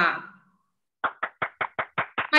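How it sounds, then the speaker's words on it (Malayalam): Eight distinct claps in a quick, steady rhythm after a brief voice and pause, close and moderately loud, given for a student in a class. "നല്ലൊരു ക്ലാപ്പ് ഒന്ന് അവന് കൊടുത്തേ"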